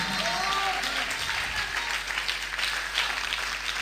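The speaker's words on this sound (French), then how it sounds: "On acclame le Saint-Esprit." A church congregation applauds and cheers for the Holy Spirit in dense, sustained clapping that fills the room, with voices calling out through it.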